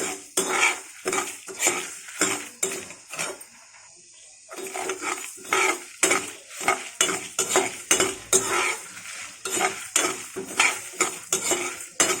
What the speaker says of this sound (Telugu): వేసి బాగా వేయించుకోవాలి